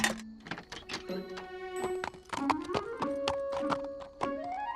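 Foals in a cartoon horse stall make short whinnying cries mixed with clopping hoof knocks, close and fairly loud, over a tonal musical backdrop with no talking.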